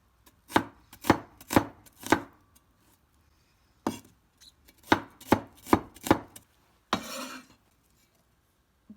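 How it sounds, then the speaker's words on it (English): Knife chopping an onion into slices on a board for a zucchini omelette, sharp close knocks in two bursts of four or five even strokes, then a brief scrape at the end, no talking. "And then I'm going to chop it into slice."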